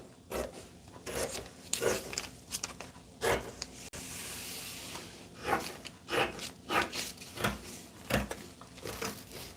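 Shears cutting shirt fabric during tailoring, a series of rasping snips and fabric rubs in uneven bursts, close and fairly quiet, without speech.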